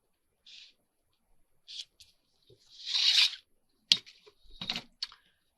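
Snips and a short tearing rustle of wallpaper being cut with scissors along a tear, a few crisp cuts spread out over several seconds, close and fairly quiet.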